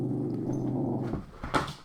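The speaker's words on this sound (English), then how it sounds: "What are you guys barking at?" Dogs in the Nancy Drew video game, a low sustained growl that breaks off into a couple of short, sharper barks or yips near the end.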